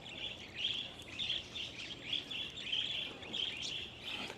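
Wild parakeets chirp continuously in a busy, overlapping flock, their bright calls fairly close and steady throughout, with no talking.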